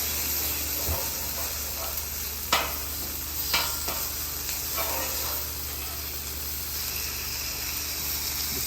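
Rendered chicken fat poured onto a hot flat-top griddle beside chicken breast, a loud steady sizzle and hiss with several sharp spatula scrapes and taps, close and with no talking.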